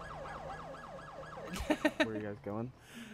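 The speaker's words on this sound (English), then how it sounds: "The sirens." A wailing police siren in the video game GTA 5 sweeps up and down repeatedly, then a few sharp bangs and a voice cut in near the end.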